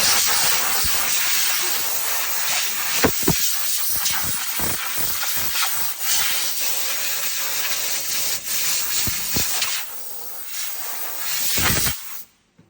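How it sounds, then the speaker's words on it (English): Compressed air hisses loudly from a blower drying cleaned rusty surface metal on a classic round-nose Mini panel van, a continuous close rush broken by sharp bursts and rag wipes, then cutting off at the end. "As I blow dry it, I'm going to dry it with my rag at the same time."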